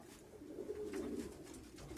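Racing pigeons coo softly at a loft, a low, murmuring warble rising and falling over about two seconds, faint and close with no voices.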